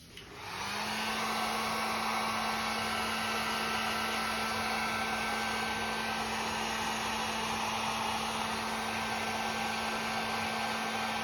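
A heat gun clicks on and then roars in a loud, steady blow, held on a foam pool noodle to thin and texture it for a creepy vine, with a constant whine running throughout.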